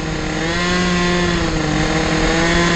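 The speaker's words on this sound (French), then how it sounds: "J'entends la transmission." An MBK Booster moped fitted with a 70cc Athena kit drones steadily with its transmission, a loud, continuous buzzing whine held close for the whole stretch with no speech.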